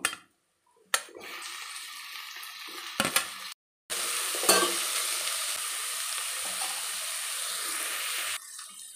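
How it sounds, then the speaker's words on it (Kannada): Tomatoes hit hot masala in a pan for chicken biryani and fry with a steady loud sizzle, broken by a few brief stirring knocks and short pauses. "ಇವಾಗ ನಾನು ಟೊಮಾಟೊ ಹಾಕೋತೀನಿ"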